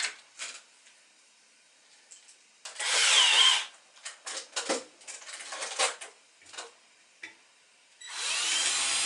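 A power drill with a small 3.5 mm bit bores a pilot hole in wood, a sustained whir near the start and another at the end, separated by short bursts, knocks and handling noises.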